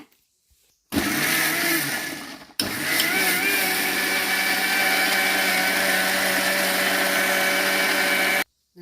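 A kitchen mixer grinder blends chopped cucumber with its peel for dosa batter, roaring loudly and steadily after a short first burst and a brief stop, then cutting off.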